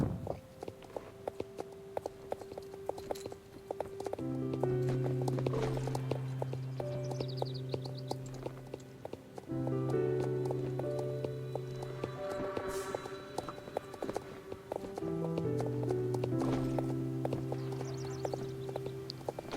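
Hooves of a mare clip-clop at a walk while she is ridden at a riding stable, a steady near rhythm under sustained tonal music, with no talking.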